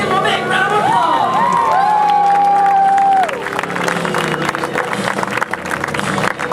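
Spectators at the Mad-City Ski Team's 2011 national show ski tournament clap and cheer loudly. High voices shout and whoop over the applause, which carries on steadily and eases slightly toward the end.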